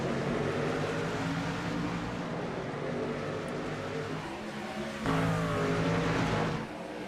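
Race trucks roar at the green flag in a video game Truck Series race at Phoenix, a dense continuous engine drone with rising revs from several trucks, loud and sustained with no talk.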